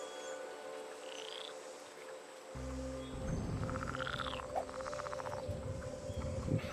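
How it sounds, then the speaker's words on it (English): Frogs croak in the woods, a dense chorus of trilling, pulsing calls over a steady hum of insects, with a low rumble joining partway through and faint bird calls in the distance. "Frogs."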